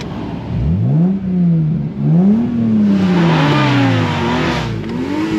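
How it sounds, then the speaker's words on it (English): Toyota Supra engine revving hard, its pitch sweeping up and down through several loud, close blips and a sustained climb, heard alone with no talk. "We gotta give it a quick rev here."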